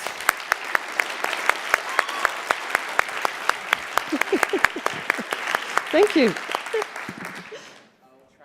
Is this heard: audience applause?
yes